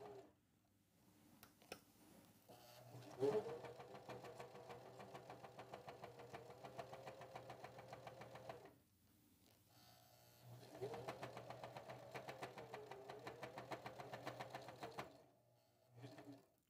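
Sewing machine running along a fabric edge while making a kids' slumber sack, two bursts of rapid rhythmic stitching separated by a short pause, close and fairly quiet, with no talk.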